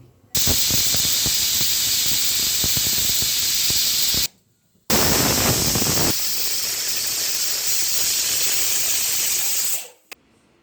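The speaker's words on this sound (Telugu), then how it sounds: "5 విజిల్లు వచ్చే వరకు ఉడికించండి." A pressure cooker full of mushroom curry vents steam in two long, loud hissing bursts separated by a brief silent gap, then cuts off abruptly.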